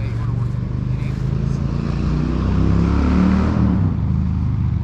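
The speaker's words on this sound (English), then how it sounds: "that badass Harley just drove over the bridge" A Harley motorcycle passes over a bridge near a river, its low engine rumble steady and fairly loud, swelling slightly as it draws closest before easing off.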